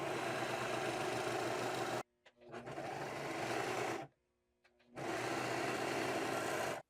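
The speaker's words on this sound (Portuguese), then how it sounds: "Agora é só costurar." Overlock sewing machine stitching elastic-waist shorts, running in three steady close bursts of fast whirring stitching separated by short pauses.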